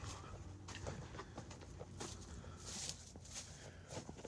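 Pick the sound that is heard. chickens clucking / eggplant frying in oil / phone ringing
chickens clucking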